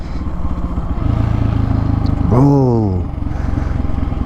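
Polaris Predator 500 ATV engine running steadily while riding, loud and close, with a rising rev swell midway and a voice briefly heard over it.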